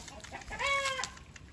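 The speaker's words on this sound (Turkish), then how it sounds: "Çok fena bir horoz olacak bu." A young rooster in a backyard chicken flock gives a short, strained crow-like call lasting under half a second, fairly close, framed by quiet surrounding noise and no talk.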